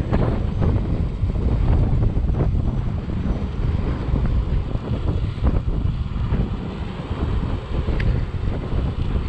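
Strong, constant wind buffeting the microphone with a loud low roar that never lets up, while riding a Segway Ninebot ES3 scooter on a road.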